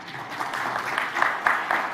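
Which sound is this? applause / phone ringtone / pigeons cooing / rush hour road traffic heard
applause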